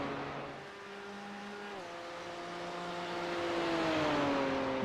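A BMW GT3 race car at Road America sweeps past with a rising, shifting engine note that changes gear partway through and grows louder toward the end, under light track ambience.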